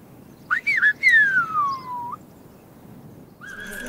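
Silbo Gomero, the whistled language of La Gomera in the Canary Islands: a few loud, clear whistled phrases with rising and gliding pitches, then a pause before another sustained whistle over faint background noise.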